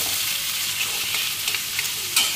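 Onions fry in a pan for mutton kosha, giving a steady, close sizzling hiss with faint stirring scrapes and a small clink near the end.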